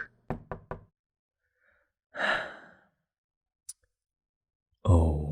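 Three quick, close knocks on a door sound in a fast run, followed by a soft sigh and breathing, a faint click, then another breath.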